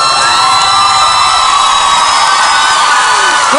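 A loud crowd screams and cheers at The X Factor live show, a dense, sustained wall of high-pitched shrieks and whoops filling the whole stretch without a break.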